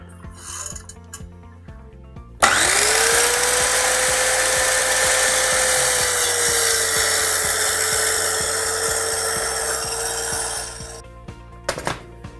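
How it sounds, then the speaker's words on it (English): A circular saw rips through clamped pallet timber on two workbenches: a sharp motor whine jumps in loud, holds a steady high-pitched cut for about eight seconds, then winds down, followed by a couple of light knocks. "I'm going to use my circular saw"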